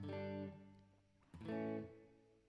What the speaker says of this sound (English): It's a very useful plate reverb. You'll hear it on a guitar very often.